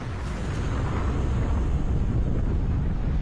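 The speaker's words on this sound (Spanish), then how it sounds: "la plataforma es sacudida por una explosión" An explosion rocks an oil drilling platform in the Gulf, about 80 km off the Louisiana coast at night; a loud, continuous, deep rumbling roar holds steady throughout with no break or voices.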